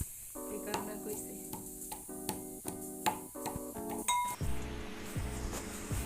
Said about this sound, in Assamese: দালি ভাজি আছো